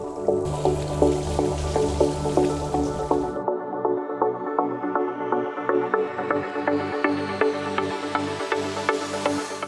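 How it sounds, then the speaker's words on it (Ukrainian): A powerful stream of water rinses a car engine bay, loud hissing spray that cuts off after a few seconds and leaves a steady patter of drips and dribbling runoff. "ми просто знімаємо спис і промиваємо ось ці частини великим потоком води"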